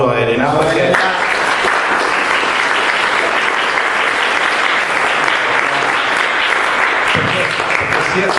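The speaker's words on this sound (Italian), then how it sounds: "chiederei un applauso a Elena" Sustained applause from a crowd at a regional spokespersons' meeting of the M5S party, steady and dense throughout, with a brief voice at the very start.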